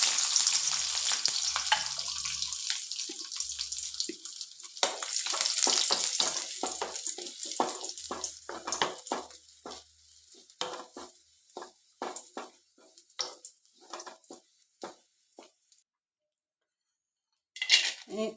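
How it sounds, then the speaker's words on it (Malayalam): Cashew nuts fry in ghee in a pan with an irregular crackling sizzle and scattered sharp pops, interrupted by stirring and utensil clinks, fading toward quieter patches before a brief final burst. "നെയ്യിൽ വറുത്തെടുക്കാം."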